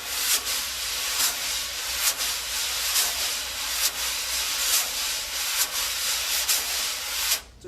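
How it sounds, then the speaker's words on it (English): Wire drum brushes swirl across a snare head in the stirring-the-soup pattern, giving a steady close sweeping hiss with a regular pulsing accent about twice a second, no voices. "very often brushes are used to do what's called stirring the soup. Looks and sounds a little bit like this."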